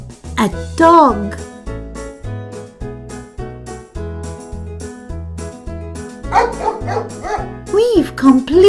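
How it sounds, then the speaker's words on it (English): A dog bark sound effect from a Peppa Pig farm animals toy puzzle plays a few times over steady background music, short sharp barks early on and more near the end. "A dog."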